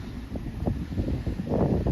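Gusty wind buffets a vegetable garden of cucumbers, freshly planted peppers and tomatoes during a storm warning, rustling and rumbling against the microphone in uneven surges.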